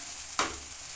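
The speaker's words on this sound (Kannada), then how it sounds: "ಇದನ್ನು ಸ್ವಲ್ಪನ ಎಣ್ಣೆಯಲ್ಲಿ ಫ್ರೈ ಆಗಿ ಇವಾಗೆಲ್ಲ ಚೆನ್ನಾಗಿ ಫ್ರೈ ಆಗಿದೆ" One quick stir scrapes through asafoetida frying in a small amount of oil, giving a short sizzling burst over a faint steady hiss.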